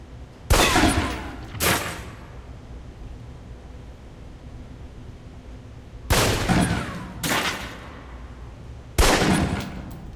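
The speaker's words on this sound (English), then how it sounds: "Equip the pistol, then aim down range and take some shots at the target." Pistol shots fired at a range target in the Alpha Protocol game ring out as five sharp, loud single cracks spaced in pairs and singles, each with a short decaying tail over quiet background.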